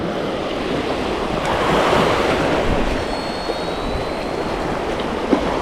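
Strong seaside wind roars steadily against the microphone with surf rushing underneath, a loud, continuous wash of noise while fishing from the shore with a casting reel, with faint ticks near the end.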